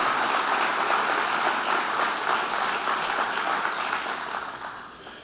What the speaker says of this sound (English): Now give yourselves a round of applause for that